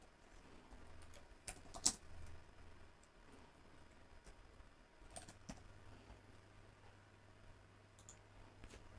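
Light typing on a computer keyboard gives scattered soft key clicks and taps, faint and intermittent over a quiet room hum, with no speech.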